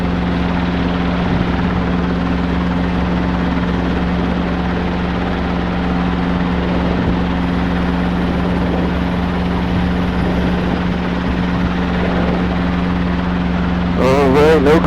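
Robinson R22 helicopter at a runway for a normal takeoff, its engine and rotor droning steadily and loudly at close range with a strong low hum, joined near the end by a brief higher whine.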